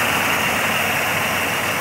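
1980 Buick Regal Turbo Sport Coupe with a restored 231 turbo engine running at idle, a loud, steady, close rumble with even vibration and no voices.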